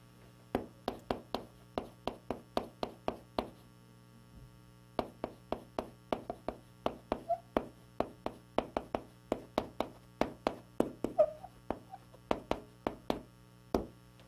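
Sharp taps and strokes of writing on a board come in quick bursts with short pauses, recorded close during a railway engineering lecture on rail fastening devices. A steady electrical hum sits underneath and no one speaks.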